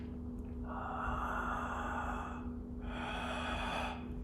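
Ujjayi breathing with a constricted throat during a guided meditation, two long, soft, hissing inhalations, close and quiet over a low steady hum, no speech.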